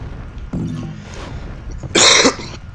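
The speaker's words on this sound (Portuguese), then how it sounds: "Desculpem pela tosse." Two sharp, close coughs from a man, a low throat-clearing hack followed by a louder harsh burst, alone over a quiet background.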